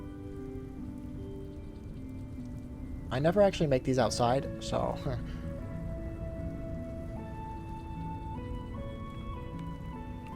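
Soft, continuous rain from the video game Minecraft hisses faintly under someone talking near the middle, alongside layered tonal game sounds.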